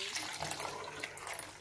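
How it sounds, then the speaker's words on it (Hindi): Water from a jug poured into a whisked yogurt paste for Punjabi kadhi, a steady soft splashing trickle heard close up and fairly quiet, with no talking. "अभी हम इसमें पानी ऐड करेंगे हाफ कप, हाफ जग,"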